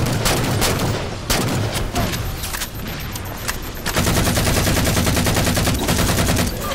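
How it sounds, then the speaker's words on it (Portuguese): Heavy weapon fire from the Halo 4 video game, rapid repeated blasts in a dense, loud barrage that briefly slackens and then resumes as a steady, fast stream, with no talking. "Nossa, o tamanho do canhão, velho."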